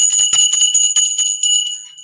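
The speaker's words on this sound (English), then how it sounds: "I'm gonna give myself and y'all some bells." High, ringing bell tones chime and shimmer with sustained overtones, struck repeatedly in a loose cluster, loud and close, with no voices.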